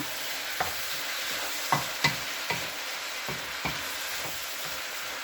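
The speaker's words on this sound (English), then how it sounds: "So we'll cook our red peppers, green peppers, yellow peppers." Red, green and yellow peppers frying in a pan for sweet and sour pork, a soft continuous sizzle broken by several sharp clatters of stirring, close and with no talk.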